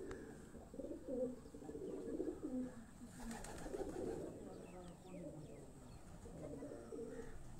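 A racing pigeon coos softly in a few low rolling calls, faint and nearby, with someone talking quietly over it.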